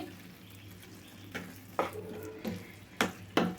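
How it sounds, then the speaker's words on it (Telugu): Coconut being stirred into boiling jaggery water in a thick, heavy pan, with soft bubbling under a few louder scraping strokes of a spoon against the pan toward the end. "చూడండి ఇట్లా కలుపుతూనే ఉడికించుకోవాలండి"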